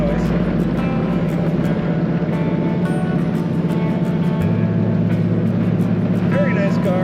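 A 1934 Ford Model 40 five-window coupe cruising on a very windy Minnesota day, a steady low engine drone with road rumble and a light wash of wind, a shift in engine tone midway, heard from inside the car.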